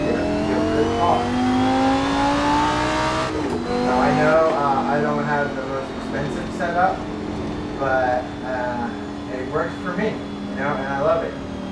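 Simulated race car in Assetto Corsa or iRacing, played in Windows Mixed Reality, its engine droning steadily with shifting pitch under a person talking throughout.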